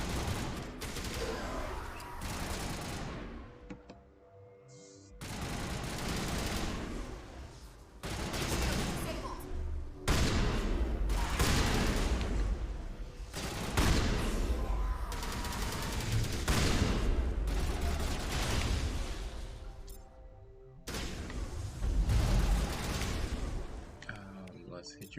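Shotgun and other gunfire in Mass Effect Legendary Edition, heavy repeated blasts and bursts in long waves over battle noise, with a voice talking intermittently.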